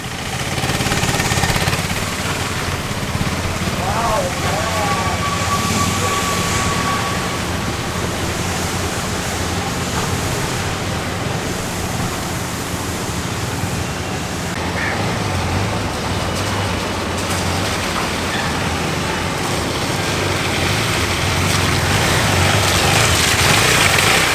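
A motorcycle engine roars continuously with heavy rumbling and wind noise, as if riding over rough ground.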